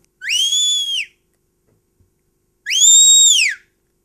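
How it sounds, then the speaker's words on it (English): Two long, steady human whistles, each held for about a second with a gap between, given as a shepherd's drawn-out stop command to a Border Collie sheepdog in the Scottish Borders; loud, close and clear with no talk. "This is the stop whistle. It's a long, drawn-out whistle."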